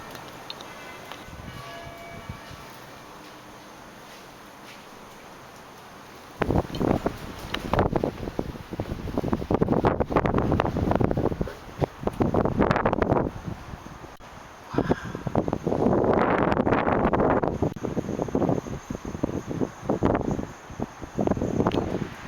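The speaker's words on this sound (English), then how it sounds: "I don't know if you can hear the wind whipping this tower right now" Strong gusts of wind whipping a tower at Lincoln Castle buffet the microphone in heavy rumbling bursts after a quieter start, the roar rising and falling without speech.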